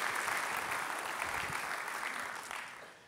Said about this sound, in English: let's also give them a big round of applause